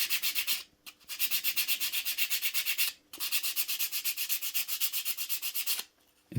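Plaster on a wall being sanded smooth with emery cloth in steady back-and-forth strokes, a dense rhythmic rasping that runs for long stretches with two brief pauses, close and loud with no talking.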